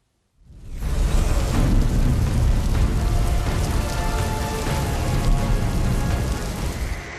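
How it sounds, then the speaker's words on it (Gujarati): Heavy unseasonal rain pours down in a dense, continuous roar, loud and close, with no breaks from start to finish. "કેટલાક વિસ્તારમાં કમોસમી વરસાદે કહેર મચાવ્યો છે"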